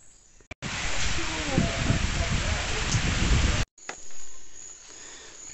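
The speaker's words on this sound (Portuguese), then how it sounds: "Como vocês podem ver num vídeo aí, foi muita chuva." Heavy rain pours down in a hillside forest, a loud, steady hiss of drops on leaves that cuts off abruptly, followed by a quieter, softer patter.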